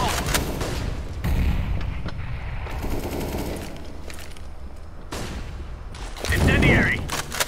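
Gunfire and grenade blasts in a first-person shooter game, with a thumping burst near the start and a loud, dense eruption near the end, amid sustained crackling shots and some voice chatter.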